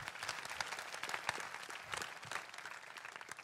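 A church congregation at a Sunday service applauds with brisk, continuous clapping for a few seconds, soft and somewhat distant throughout.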